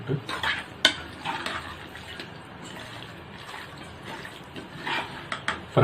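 Ground masala for country chicken curry stirred in a pot: a metal spoon scrapes and clinks against the pot over a soft, faint frying sizzle, close by, with irregular knocks and no speech.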